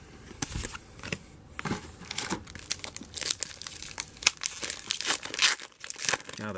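Foil wrapper of a Magic: The Gathering Khans of Tarkir booster pack being torn open, with close, busy crinkling and tearing bursts running throughout at varying loudness.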